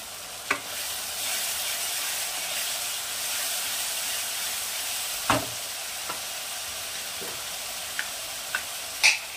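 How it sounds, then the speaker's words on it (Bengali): Chopped green chilies and Kashmiri chili powder fry in a pan for a Bengali aar fish curry, giving a steady close sizzle with a few sharp spatula scrapes and clinks scattered through. "এরপরে দিয়ে দেবো কেটে রাখা কাঁচা লঙ্কা, এটাও ভালো করে আমি সাঁতলে নেব, কষিয়ে নেব"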